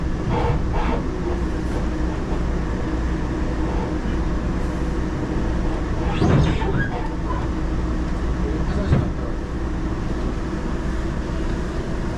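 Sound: train riding on rails, heard from inside

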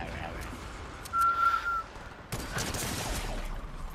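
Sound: sniper gunfire in the video game Reload

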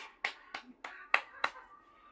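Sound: hand clapping

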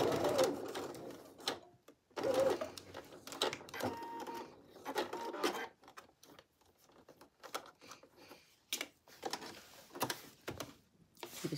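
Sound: sewing machine basting straps to bodice

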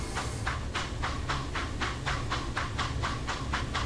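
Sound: steam locomotive running, from video game Train Simulator 2019

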